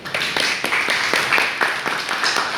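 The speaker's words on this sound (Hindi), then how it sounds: "एक बार चाहता हूँ कि अपने लिए एक बार जोरदार ताली हो जाएगी" An audience at an organic farming talk claps, the individual hand claps sounding distinct and rhythmic at moderate loudness for a couple of seconds.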